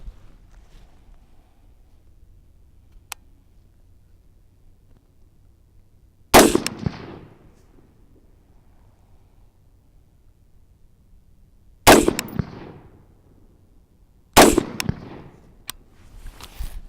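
Three loud gunshots fired at Shoot-N-See paper targets ring out from near silence, the first standing alone and the last two following a few seconds apart, each a sharp crack with a brief echoing tail.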